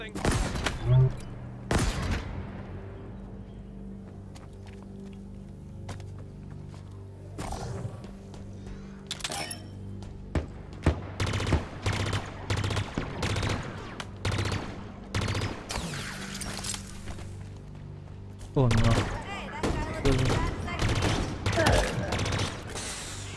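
Gunfire in the video game Halo Infinite during a campaign level, with sharp shots and bursts of fire repeating irregularly across the scene, some close and loud, others further off, over a low ambient game backdrop.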